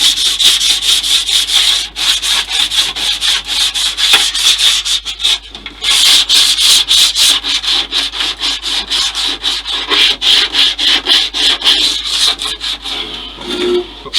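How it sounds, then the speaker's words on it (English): Continuous sanding of a scratched plastic hull on a USS Missouri model kit, a loud, steady rasping scrape in back-and-forth strokes with short pauses, close up and alone. "The hull is scratched to hell, but it's going to all be sanded."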